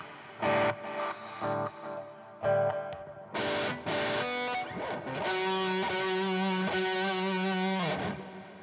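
A synth bass patch in Logic Pro with echo on it plays a choppy run of short distorted notes, then settles into longer sustained tones whose repeats blur together, loud and alone with no voices.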